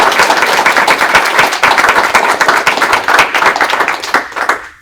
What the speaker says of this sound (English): If we can just give a big round of applause.